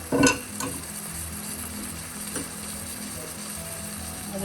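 Tomatoes go into a frying onion base for a chicken and fried potato curry. A sharp spoon-and-pan clatter opens the clip, then a steady close sizzle continues with occasional stirring scrapes.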